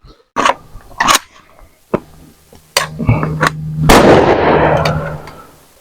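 AK-47 rifle fired during a combat drill: several sharp, loud close shots spaced irregularly, with a heavier blast near the end that trails off into a long rumbling echo.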